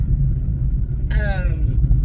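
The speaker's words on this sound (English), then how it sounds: "we're back in the car" Steady low road rumble from inside a moving car on a sunny day, continuous throughout, with a brief high harmonic squeal or chirp partway through.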